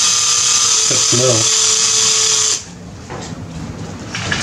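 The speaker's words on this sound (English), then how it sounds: "this drill bit may not be large enough" A power drill whines steadily at close range while drilling out stripped Torx bolts on a Harley Sportster derby cover. The high whine cuts off partway through, then lower mechanical noise follows, and someone speaks briefly over it.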